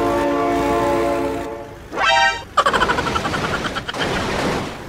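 A train horn in the BeamNG Drive driving game blares in a long, loud, steady blast, then a rising tone sweeps up before heavy rattling rail clatter and a rumbling train take over.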